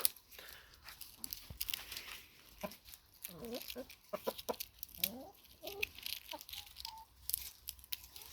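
Hens clucking softly in short, scattered bursts, with a few rising squawks amid faint rustling and background noise.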